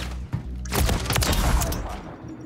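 Sniper rifle gunshots in an online video game played with keyboard and mouse: a short, sharp report, then a louder crackling burst of shots over about two seconds.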